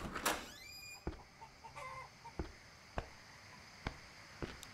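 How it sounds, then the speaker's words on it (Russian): Chicken in the survival video game Survive The Nights clucks in short, sharp, intermittent calls spaced through the stretch, fairly faint against a quiet background, with a brief louder crow-like cry at the start. "Это курочка."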